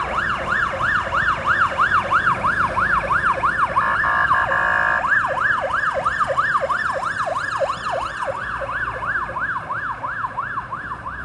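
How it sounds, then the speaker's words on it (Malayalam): An ambulance siren passes along a busy Kuala Lumpur street in Malaysia: a loud, close wail in rapid, even up-and-down cycles, steady for about eleven seconds over traffic rumble. "ആംബുലൻസ് ആണ് ഈ വരുന്നത്."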